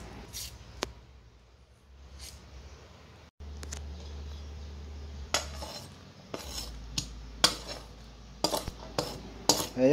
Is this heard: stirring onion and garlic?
yes